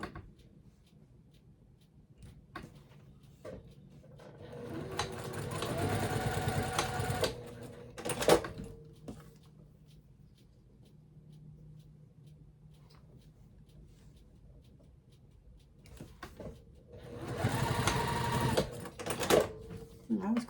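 A sewing machine stitches across a quilted boxy bag in two bursts of steady whirring, close and clear, with quiet pauses and handling noises between them.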